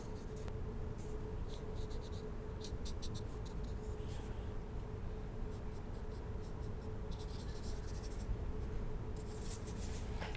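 A pen drawing owl eyes on a mask makes continuous soft scratching strokes, close and quiet, with short quick bursts of scribbling and no talk.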